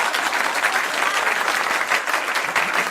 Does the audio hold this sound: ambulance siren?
no